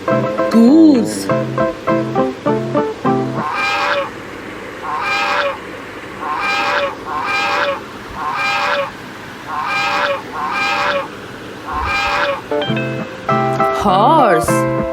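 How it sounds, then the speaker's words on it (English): Farm geese honking, a steady run of about ten loud, evenly spaced honks, with a voice speaking briefly at the start and end. "goose,"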